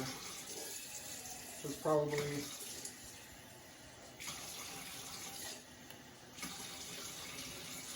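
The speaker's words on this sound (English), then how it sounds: "I'm going to fill up this with, we'll just do 10 ounces of water." About ten ounces of water poured into a small pot for a Solo Stove alcohol burner, a steady trickling splash that runs throughout, with someone speaking briefly.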